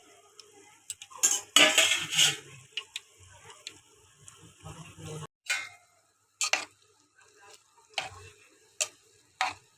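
Palm fruit fritters (taler bora) being stirred in a pan of hot oil, with scattered metallic scrapes and clinks of a utensil against the pan over quiet sizzling, in short irregular bursts.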